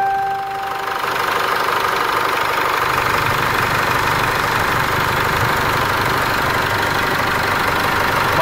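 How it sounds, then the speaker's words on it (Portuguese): A Chevrolet Trailblazer engine idles after repair work that included a new drive belt, new timing belt and a flushed radiator, giving a steady, close, even-running rumble at constant level with no speech. "O barulho do motor agora tá sereno."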